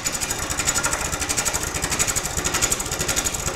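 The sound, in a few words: lathe tool scraping the outside of a walnut bowl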